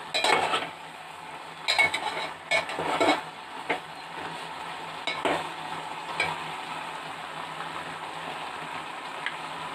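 Mutton curry with ginger garlic paste is stirred in a pan, giving quick metallic scrapes and clinks in bursts over a soft background sizzle.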